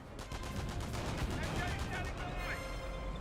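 Mortar fire in the World War II strategy game Company of Heroes 1: a rapid series of muffled thumping reports and booms rolls on continuously at a moderate distance, layered with battlefield rumble.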